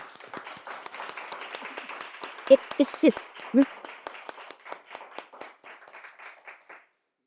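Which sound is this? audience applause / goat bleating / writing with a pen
audience applause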